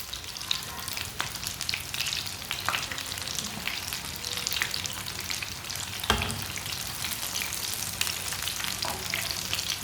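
Green chilli pakoras fry in hot oil with a dense, steady sizzle, broken by occasional soft scrapes and clinks as the pieces are turned over.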